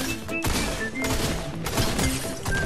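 Rapid bursts of gunfire in Fortnite crackle in dense, overlapping volleys with heavy thuds and impacts, loud and near, as shots come at the player.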